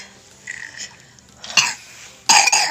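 A baby with a cold coughs in a few short bursts, with a small cough midway and a louder double cough near the end, close to the microphone.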